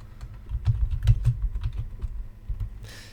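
Rapid clatter of computer keyboard keys in a home studio, a steady run of close, crisp keystrokes over a low background hum, ending in a brief burst of hiss.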